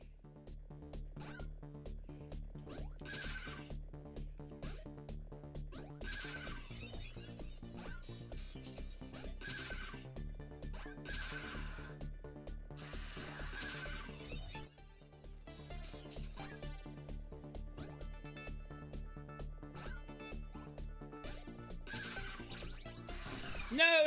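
The horse Roach from a video game whinnies and trots with a rapid, repeating clip-clop of hooves at a steady moderate level, with game music and sound effects underneath.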